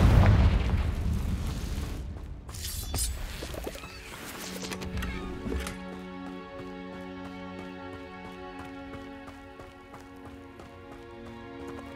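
A Confringo spell going off in Hogwarts Legacy: a loud low boom opens, then rumbling debris, fading into a steady game music drone.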